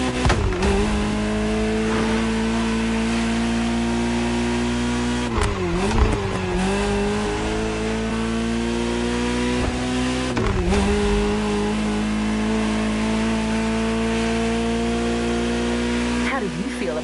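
Ferrari 308 GTS engine in the Motorfest racing game, a loud steady drone with strong harmonics, dipping briefly as if shifting gears around six and eleven seconds, with faint speech-like sound mixed in.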